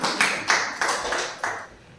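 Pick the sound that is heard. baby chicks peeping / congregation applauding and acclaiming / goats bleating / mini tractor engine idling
congregation applauding and acclaiming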